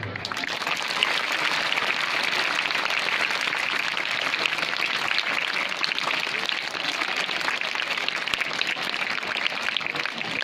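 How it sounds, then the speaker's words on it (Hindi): Audience applause at a taluka-level school science exhibition as a supervisor is welcomed to the stage, a steady, continuous spread of many hands clapping at moderate loudness for about ten seconds. "जोरदार तालियां।"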